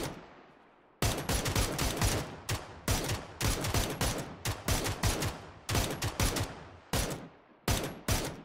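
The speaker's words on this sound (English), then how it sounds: "Shooting a dead body, mate" Automatic gunfire in the video game PUBG, played in console duos, comes as loud, rapid bursts of shots separated by short pauses, repeating steadily for several seconds with no talking.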